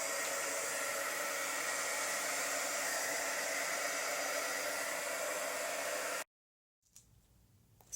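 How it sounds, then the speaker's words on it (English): A hair dryer running on a low setting to push fluid acrylic paint, a steady close hiss of blowing air for about six seconds that cuts out abruptly, followed by faint room noise. "you can use your heat gun or your hair dryer"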